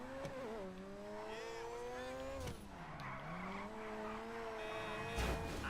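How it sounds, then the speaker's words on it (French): Custom toy car drifting with steady skidding tire squeal and a whining motor pitch that rises and dips, loud and continuous with a thump near the end. "On va faire une session de drift avec."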